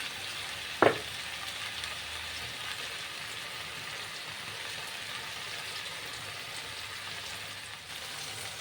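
Spices, including ground cumin and a pinch of salt, sizzle steadily in a hot pan while being stirred, a continuous frying hiss with one sharp clack of the utensil early on.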